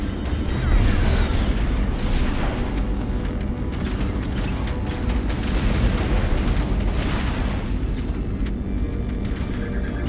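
Missile launches and explosions from the space combat game Strike Suit Zero: Director's Cut, a dense continuous barrage of booming blasts and bursts layered over a rumbling low drone, loud and sustained for the whole stretch.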